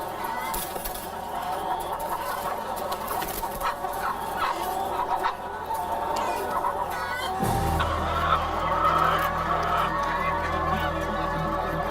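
A flock of hens on a caged egg-laying farm clucks continuously, close by, over a low background hum that grows slightly louder partway through.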